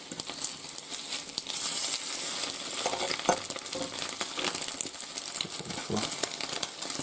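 Food frying in a pan gives a steady, dense crackling sizzle with scattered sharper pops. It runs continuously at moderate level throughout, with no talking.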